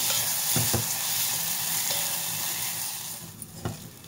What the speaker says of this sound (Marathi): हे वाटण चांगलं 2-3 मिनिटं परतून घेऊया